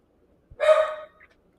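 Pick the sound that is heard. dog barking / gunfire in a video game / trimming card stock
dog barking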